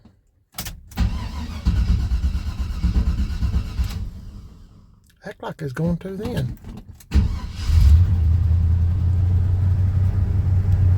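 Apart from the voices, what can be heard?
1978 Chevy C10 truck engine being started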